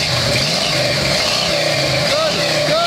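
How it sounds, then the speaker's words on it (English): A 1991 Chevrolet Blazer engine revving at steady mid pitch, loud and close, with a voice talking over it. "Rev it again, Connor."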